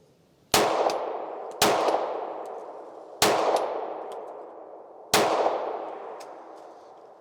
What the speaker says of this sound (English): let's shoot the rest of the magazine here and see how it does